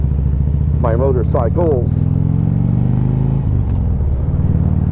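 A Harley-Davidson Ultra Classic motorcycle engine rumbles steadily and loudly at close range while riding through Niles Canyon, a rider speaking briefly over the low drone.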